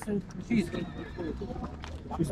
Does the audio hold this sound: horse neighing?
yes